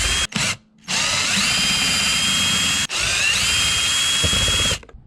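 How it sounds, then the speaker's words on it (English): Cordless power drill spinning out Torx T25 screws on a 2018 Sea-Doo 300 GTX watercraft, two long steady whirring runs that rise in pitch as the motor speeds up, close and loud, separated by a short pause, with no talk. "a drill is handy here because there's a lot of screws to take out"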